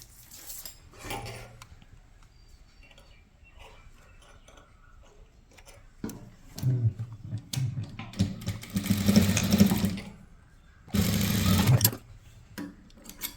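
A domestic sewing machine stitches the shoulder seam of a chudithar top in bursts, with a short run near the one-second mark and louder, longer runs from about six to ten seconds and again around eleven to twelve seconds, with quiet pauses between.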